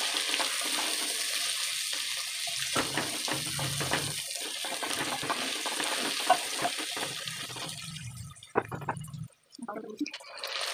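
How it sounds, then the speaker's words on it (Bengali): Sliced onion sizzles and fries in a pan for a Bengali fish curry, with a steady hiss, occasional stirring scrapes and brief pauses, close and moderately loud. "পেঁয়াজটা দিয়ে একটু ভাজা ভাজা করে নিতে হবে"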